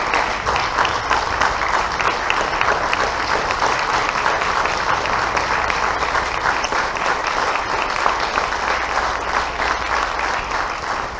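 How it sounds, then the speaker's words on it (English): Sustained audience applause at a school board meeting, dense steady clapping from a large group filling the room at an even level throughout, with no voices on top. "Let's give them a round of applause."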